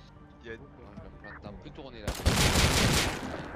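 Gunfire erupts in a Rust raid session, a dense loud burst of shots starting partway through after a stretch of French voice chat.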